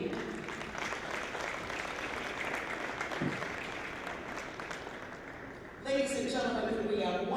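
Crowd applause in a college gym at an Elmhurst Blue Jays wrestling senior day, steady clapping from the stands that carries on until an announcer's amplified voice cuts in near the end.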